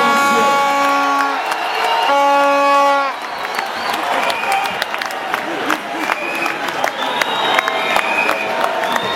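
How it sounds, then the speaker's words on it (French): A crowd applauds and cheers as a presidential couple leaves a hall, with a steady wash of clapping and scattered whoops rising after an opening of sustained tones. "Applaudir la sortie du couple présidentiel."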